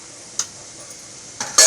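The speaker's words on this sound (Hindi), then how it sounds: "मसाला भूजा जा रहा है" Masala with garlic fries and is stirred in a pan, soft sizzling broken by a couple of sharp scraping strokes of a spoon, the last one loud and close.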